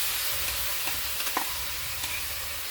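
A ground spice paste of onion, ginger, garlic, chilli, tomato and sour yogurt is stirred and fried in a pan, giving a steady close sizzle broken by soft scraping strokes of the spoon, with no talking.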